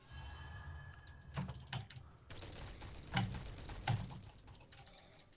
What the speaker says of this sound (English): Your keyboard's just taking a beating right now.